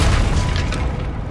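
A Confringo spell explosion in Hogwarts Legacy, a single loud, close boom with a rumbling burst that fades over about a second.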